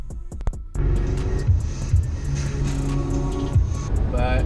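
Car on a drive to Pittsburgh, its engine droning and rising at close range with steady road rumble, after a few sharp clicks at the start.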